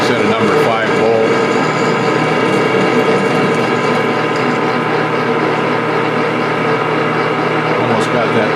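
A Grizzly G4003G metal lathe turns down a small number 5 bolt, giving a loud, steady mechanical whir with gear clatter throughout, and a person talks over it.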